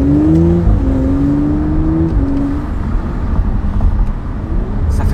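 A 2018 Audi RS4 engine revs in a steady, close drone, with a few rising and falling pitch sweeps early on, and no talking.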